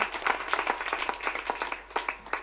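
Audience clapping at a kirtan devotional gathering, a dense patter of many hands that rises and falls unevenly over a couple of seconds, fairly loud and close with no voice over it.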